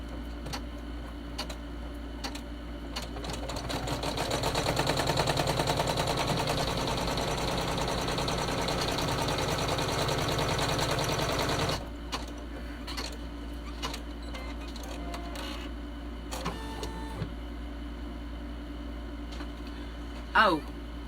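An embroidery sewing machine stitches a vinyl tack-down line for a credit card holder, a fast, even mechanical rattle that runs loudly for about twelve seconds, then stops and leaves scattered clicks.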